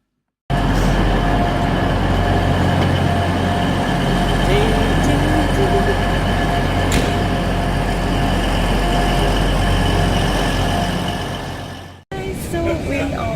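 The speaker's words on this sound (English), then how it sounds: "So we are on the train back to Newcastle." Inside a moving passenger train bound for Newcastle, a loud continuous rumble and hum of wheels and motors fills the carriage with steady hiss, starting after a brief silence and cutting out near the end.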